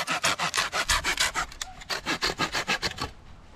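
Hand saw cutting through wood in a yard, a steady run of about twenty rhythmic rasping back-and-forth strokes, close and fairly loud, with a brief pause midway and no talking.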